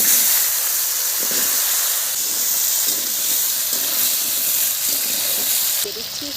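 Potatoes drop into hot oil tempered with black cumin after a hilsa fish head is fried, giving a steady, loud sizzling hiss that continues evenly throughout with no talking.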